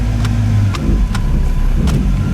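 A car with an L83 engine and 6L80E transmission runs steadily on a dyno, a loud continuous low engine drone with faint periodic ticks on top, no talk.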